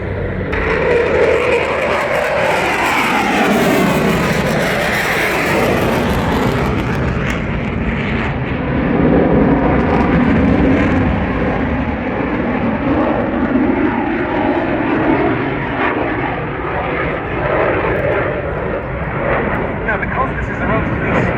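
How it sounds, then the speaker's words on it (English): Two Austrian Air Force Eurofighter Typhoon jets take off during a quick-reaction display at the RIAT 2022 air show, a loud continuous engine roar that swells and fades, with a commentator talking over it throughout. "here they go, the two Austrian Air Force Eurofighter Typhoons"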